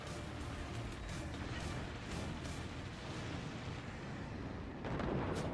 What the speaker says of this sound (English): cannon shell after cannon shell slams into the French fortifications